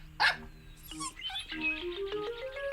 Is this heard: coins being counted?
no